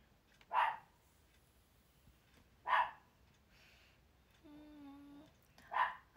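A dog gives three short, fairly close barks spaced a couple of seconds apart, with a drawn-out whimpering whine in between; the room is otherwise quiet.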